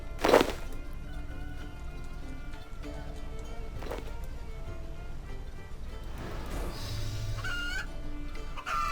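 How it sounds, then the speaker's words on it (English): Chickens cluck in bursts over a steady low hum, with a few short higher calls near the end, in the video game RuneScape 3. No one speaks. "So all the chickens are escaping because we left the door open all the way over here."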